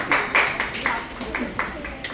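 A Grade 8 class claps for a student, a short scattered burst of individual hand claps in a classroom, several distinct sharp claps spaced irregularly, fairly close and moderately loud.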